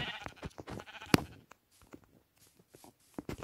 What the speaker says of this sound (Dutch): En heel veel schapen.